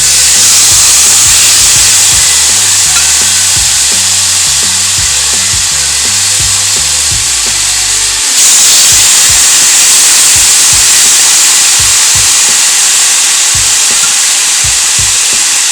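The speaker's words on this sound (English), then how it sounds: "So we're going to go ahead and add our ribs to this." Beef short ribs sear in a smoking hot cast iron pan with grapeseed oil, a loud, steady, close sizzle and hiss, joined by a pulsing mechanical hum for the first half, with no talking.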